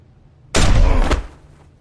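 A single loud, sharp gunshot cracks out in The Walking Dead Season 2 after near silence, its booming tail ringing and fading over about a second.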